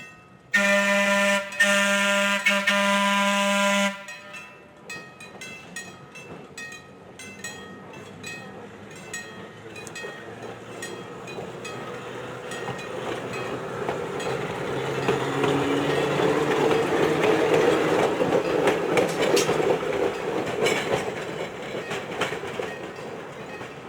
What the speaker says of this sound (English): Train, train, train.